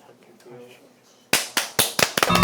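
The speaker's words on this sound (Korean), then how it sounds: "박수 한 번만" A few people clap in a short burst, about half a dozen sharp, close claps arriving in quick succession after a quiet moment with faint background sound.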